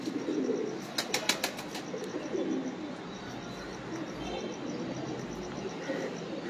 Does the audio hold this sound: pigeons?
yes